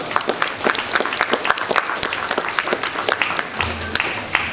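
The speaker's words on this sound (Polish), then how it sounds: "Wielkie brawa!" An audience at a festival prize ceremony in Poland applauds, a dense run of close, crisp hand claps that holds steady throughout, with a low hum entering near the end.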